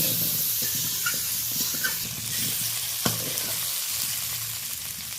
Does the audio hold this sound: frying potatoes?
yes